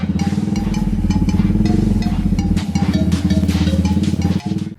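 A 250cc Elegant heavy motorcycle imported from China runs close and loud, its engine holding a steady, throbbing pulse throughout with no one speaking.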